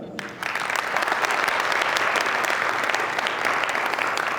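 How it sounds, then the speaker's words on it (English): After a brief pause, a crowd at an evening event breaks into loud, sustained applause welcoming the chief guest. The dense clapping holds steady throughout. "Let's give the biggest round of applause"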